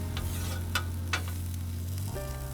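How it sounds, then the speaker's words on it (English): Salsa reduces on a Blackstone 22-inch griddle with a steady, dense sizzle and hiss throughout, broken by a few soft scraping strokes of a spatula near the start. "You want to let that salsa just kind of reduce,"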